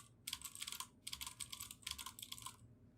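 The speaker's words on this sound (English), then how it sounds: "Some of you like the sound of my fancy keyboard." Fast typing on a fancy computer keyboard, heard up close as dense bursts of crisp clicking keystrokes separated by brief pauses, quiet and without talk.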